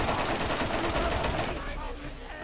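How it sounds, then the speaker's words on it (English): Sustained automatic machine-gun fire in the Borderlands shooter game, a dense continuous rattle that fills the mix loudly before easing off toward the end. "I've had this machine gun for a while now, and it's still kicking ass"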